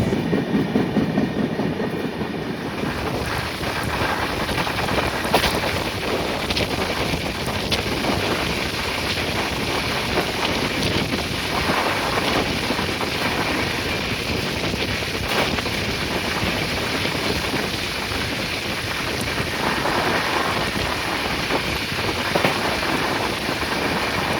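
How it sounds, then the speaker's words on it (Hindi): A passenger train on the Danapur to Secunderabad route races along at speed, a loud, constant roar of wheels and rushing wind heard from inside, with faint rhythmic rail clatter and no voices. "ट्रेन जो हमारी है भाई रफ्तार में भाग रही है।"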